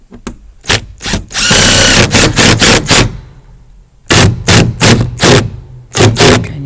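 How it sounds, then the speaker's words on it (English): A power drill whirs in short bursts while pre-drilling holes in polycarbonate, a longer sustained run followed by several quick rapid pulses, loud and close with pauses between. "I pre-drill the hole in the polycarbonate."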